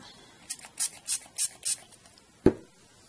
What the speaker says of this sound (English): I spray some color on the mat